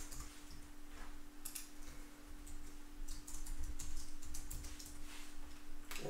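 Soft, quick keystrokes on a computer keyboard as a username and password are entered, an irregular run of light clicks heard close and quiet over a faint steady hum.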